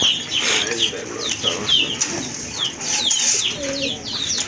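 Large pigeons at a pigeon market, with repeated cooing calls and bursts of wing flapping close by amid a busy, noisy background.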